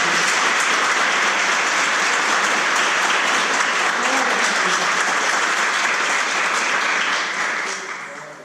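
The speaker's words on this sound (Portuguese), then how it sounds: "Aplauda Jesus nessa noite." Congregation applauding during an evening church service, a loud, dense and steady wash of clapping that holds for most of the stretch before easing off at the end.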